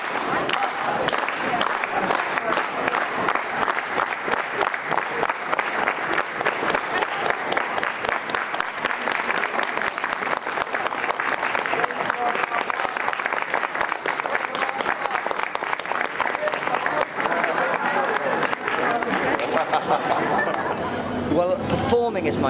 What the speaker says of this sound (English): Slow hand clap.